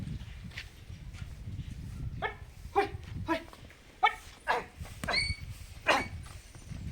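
Dogs bark in a series of sharp, separate yelps at moderate distance, about ten barks spread irregularly over the stretch.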